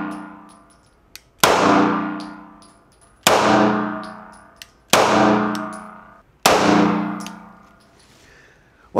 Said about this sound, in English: Let's shoot it a little more.